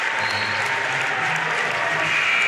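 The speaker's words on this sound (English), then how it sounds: "a nice gesture to give the crowd a chance to applaud him one more time" A basketball crowd at a boys' varsity high school game applauds graduating seniors in a gym, steady dense clapping filling the whole stretch at an even level.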